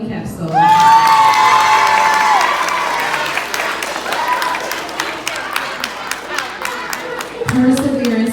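A school assembly audience claps for an award winner, with broadband applause that swells loudly and then settles into steady clapping and a few cheers, while a voice speaks briefly over it near the end.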